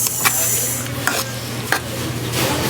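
Saba bananas cooking in a deep frying pan, stirred with a utensil: a steady sizzle underneath several distinct scraping strokes against the pan, close and clear, with no talking.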